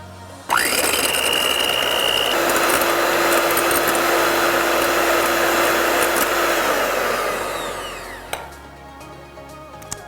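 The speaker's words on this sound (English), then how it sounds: "we're gonna whisk it until it's a soft peak" Electric mixer whisking egg whites with lemon juice to soft peaks, a loud, steady close whine that changes pitch partway through and stops abruptly near the end.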